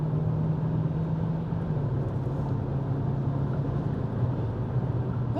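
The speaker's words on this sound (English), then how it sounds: "That intelligent variable transmission, it doesn't seem to be too bad." A 2024 Hyundai Kona SEL AWD with an intelligent variable transmission drives past slower traffic, giving a steady low engine and road drone inside the cabin with a faint rising hum and no talk.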